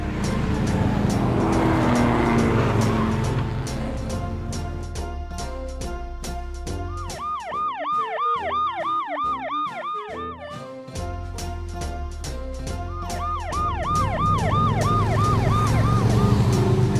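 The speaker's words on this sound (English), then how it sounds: "Police car." Police car siren wailing in repeated rising and falling sweeps over a loud, steady engine and music bed, close and prominent, fading briefly before returning strongly.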